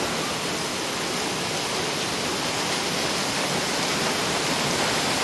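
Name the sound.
heavy monsoon rain in Taguig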